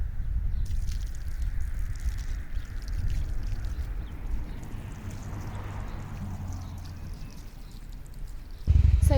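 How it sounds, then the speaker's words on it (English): Water pours steadily onto hard garden soil where leeks are about to be planted, a soft continuous splashing and trickling that runs for several seconds, faint and outdoors, ending with a bump. "So I'm just going to water the area first because the soil is quite hard."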